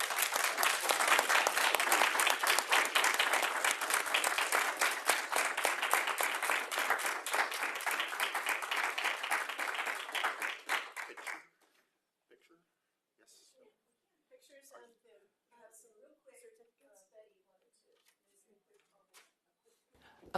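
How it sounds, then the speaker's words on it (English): Audience applause at a Kansas State Board of Education meeting, a loud sustained round of clapping lasting about eleven seconds before cutting off, followed by quiet room sounds and a voice speaking. "I think they deserve a big round of applause"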